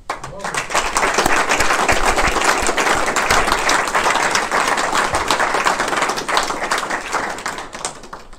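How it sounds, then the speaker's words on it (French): Sustained applause from the audience at a chamber of commerce (CCI Val-d'Oise) assembly, with dense clapping from a large room that swells and holds for several seconds before slowly thinning. "et donc je voudrais que nous les applaudissions."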